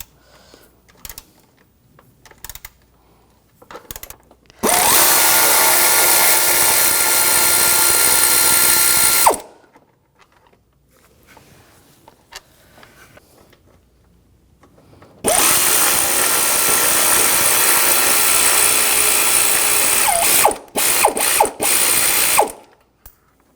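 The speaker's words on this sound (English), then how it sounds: "Now using a 13mm socket, take off the two bottom bolts." A 13mm socket ratchet backs out the radiator fan assembly bolts on a 2004-2009 Audi A4: two long, steady stretches of rapid clicking, close and loud, separated by quiet handling noises, ending with a few short bursts.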